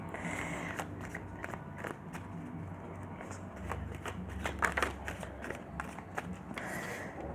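Tarot cards being shuffled by hand, a steady soft papery riffling with repeated crisp flicks and snaps throughout, fairly quiet and close, with no talking.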